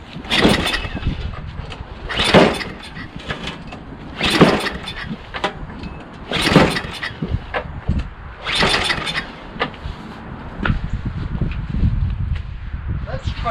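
Repeated yanks on the recoil starter cord of an Ariens 24-inch two-stage snowblower with a Tecumseh 5HP engine, each pull a sharp rasping burst, about six in a rhythmic series, with the engine not catching between them.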